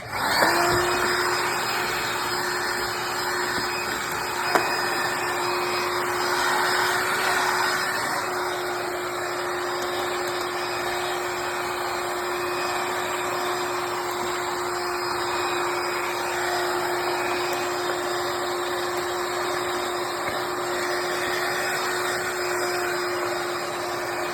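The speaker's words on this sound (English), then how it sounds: "Now we're gonna take the vacuum, if we have one. We're gonna get all the dry stuff out." A vacuum cleaner cleaning a car window track drones steadily and close up for the whole stretch, a constant whirring hum with a faint high whine and no talking.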